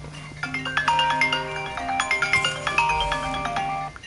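A phone ringtone plays a repeating melodic pattern of bright plucked notes over a steady low tone, close and clear, with no talking.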